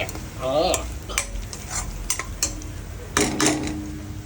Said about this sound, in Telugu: తాలింపు పెట్టిన తర్వాత ఉల్లిగడ్డలు వేసుకున్న తర్వాత రెండు మిర్చి రెండు కరేపాకు వేసుకోవాలి